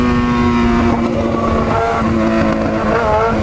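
A motorcycle with its original exhaust refitted roars loud and close, its engine held at high revs in a steady snarl with slight wavering pitch throughout.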